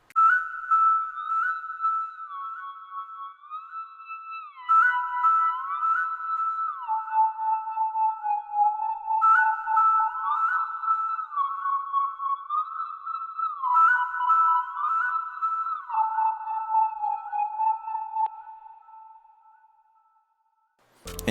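A whistled melody from a melodic guitar loop built in FL Studio, gliding between sustained tones with reverb tails, phrase after phrase, loud and steady for about eighteen seconds before fading out, with no talking.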